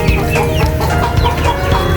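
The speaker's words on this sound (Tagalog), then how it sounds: "Ayan mga manok natin, naghintay na" Several chickens cluck continuously at close range, busy overlapping calls forming a steady farmyard chatter with no talking.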